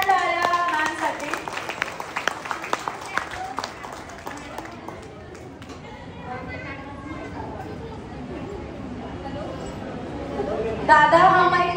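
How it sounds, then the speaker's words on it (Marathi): A crowd at a beauty seminar in Kolhapur applauds loudly for a woman on stage, the clapping strongest at first and then fading into crowd chatter and background talk. "सो एकदा जोरदार टाळ्या मॅमसाठी."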